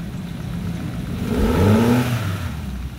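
A warmed-up Yamaha 50 outboard-style two-stroke engine idles, then revs up sharply as the throttle is opened and settles back down, loud and close with a steady rumble.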